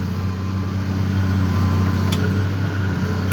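An MX 255 tractor engine idles with a steady, deep diesel hum and drone, close and constant throughout with no talk.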